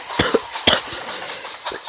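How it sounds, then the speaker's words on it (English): A person coughs several times at close range, harsh throaty bursts spaced unevenly over two seconds, with faint background noise in between. "Sorry for the cough."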